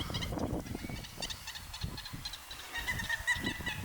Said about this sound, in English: That was a sora that you just heard.